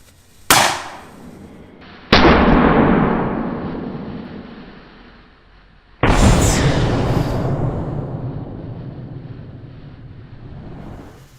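An air vortex gun fires through a smoke bomb in three loud, sharp blasts, each a sudden crack followed by a long, slowly fading whoosh of rushing air, with no talking.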